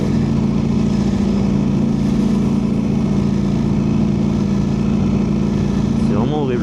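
Motorcycle riding through city traffic in Nice, its engine a steady close drone throughout with surrounding road noise, and a brief higher whine near the end.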